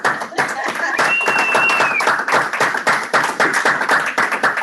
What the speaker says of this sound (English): Round of applause for Edna being back.